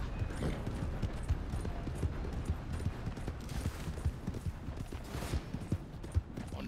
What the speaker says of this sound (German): Dann reiten wir mal zurück zum Lager.